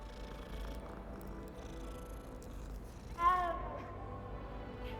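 A cat purrs softly and steadily in Hogwarts Legacy, a faint, close rumble with a brief chirping meow partway through, under quiet game background sound.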